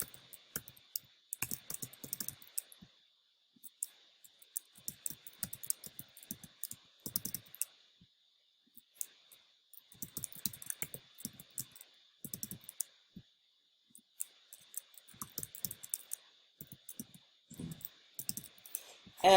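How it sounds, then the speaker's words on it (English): Quiet, irregular bursts of keystrokes on a computer keyboard, with clusters of clicks separated by short pauses and a faint steady hum underneath. "just type in your information"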